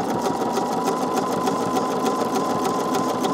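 A sewing machine zigzag-stitches a quilt block in a steady, fast, close mechanical whir that runs unbroken and loud from start to end.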